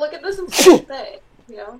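A single sharp, loud sneeze bursts out in the middle of casual conversation, with people talking just before and after it.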